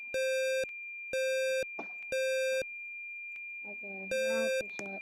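A fire alarm control panel beeps after a system reset, sounding four long, loud steady tones in a regular on-off rhythm, with people talking briefly between the beeps.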